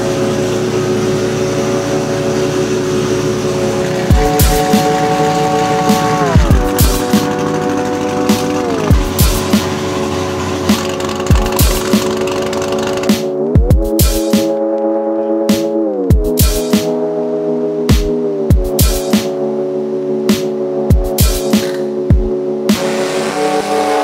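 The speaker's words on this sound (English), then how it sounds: "I started my comparison test by doing three dyno runs with the OEM intake manifold at three different boost levels" A car engine with its OEM intake manifold runs on a dyno at 17 to 32 PSI boost, droning loudly as it climbs through the revs with repeated stepped pitch rises and sharp gear-shift breaks, near and continuous.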